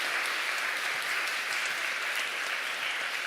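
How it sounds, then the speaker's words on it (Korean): A large church congregation claps steadily and loudly during a worship service, a dense even wash of applause that holds without a break from start to finish. "우리 다시 한번 우리 하나님께 영광의 박수 올려드리겠습니다."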